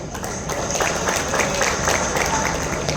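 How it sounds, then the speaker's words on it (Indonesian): A short burst of crowd applause, moderately loud, with a faint murmur of voices mixed in. "Tepuk tangannya ini kok nggak keras ya."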